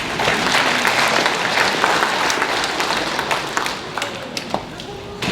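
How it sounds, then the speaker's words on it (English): Loud, dense applause from a graduation ceremony audience, steady at first and tapering off toward the end, with a voice audible over it. "he couldn't be here, but please applaud."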